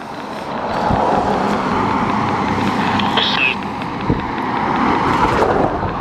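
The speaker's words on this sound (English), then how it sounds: "I can't hear you because the car's going by." A car rumbles past close by, a broad steady roar of engine and road noise that holds for several seconds with a faint voice underneath.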